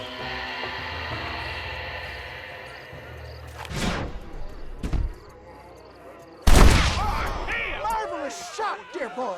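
Gunshots in a Red Dead Redemption shootout, two sharp loud cracks a few seconds apart, the second followed by ringing reverberation, over a low background drone with speech around them.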